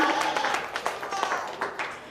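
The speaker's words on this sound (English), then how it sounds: "If you want to give them a round of applause, I think they all did a really great job." An audience at a 4-H livestock show breaks into applause for a class of does, a dense patter of many hands clapping at moderate distance, steady through the brief stretch.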